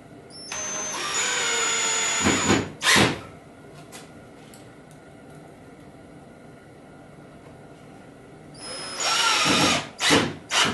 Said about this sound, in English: I can take a couple of pocket screws